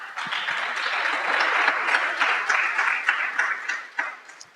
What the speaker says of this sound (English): Sounds like a round of applause, guys.